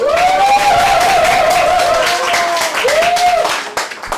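An audience at a Korean psychology lecture claps loudly and continuously to welcome the speaker, with a sustained high tone gliding over the applause before it tapers off.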